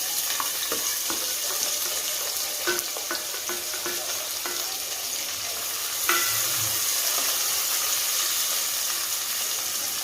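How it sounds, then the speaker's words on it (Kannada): Thinly sliced onion frying in oil with black pepper gives a continuous close sizzle, with occasional clicks of stirring in the pan and a brief clatter partway through. "ಎಣ್ಣೆಯಲ್ಲಿ ಸ್ವಲ್ಪ ಇದನ್ನು ಹುರ್ಕೊಂಡು ನಂತರ ಇದರಲ್ಲಿ ಈ ಥರ ಉದ್ದಗೆ ತೆಳಗೆ ಕಟ್ ಮಾಡ್ಕೊಂಡು ಇಟ್ಕೊಂಥ ಈರುಳ್ಳಿಯನ್ನು ಹಾಕ್ತಾಯಿದ್ದೀನಿ"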